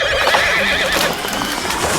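Horse in Kingdom Come: Deliverance whinnying loudly and repeatedly across a dense, bright game soundscape, with faint hoof clip-clop mixed underneath and no talking.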